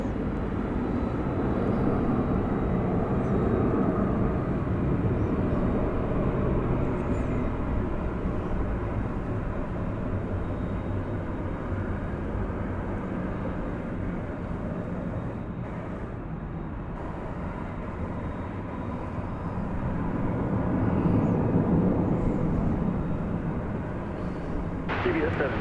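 An Airbus A300 at DFW airport at night produces a continuous distant jet rumble and roar that rises again near the end. A voice talks over it.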